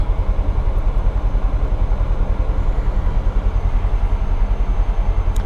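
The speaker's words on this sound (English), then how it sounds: "The engine's a little louder inside than I thought it would be" A loud, steady off-road race vehicle engine drone fills the cabin with a constant low rumble and rhythmic pulsing, heard close from inside the vehicle at King of the Hammers 2026, with no talking.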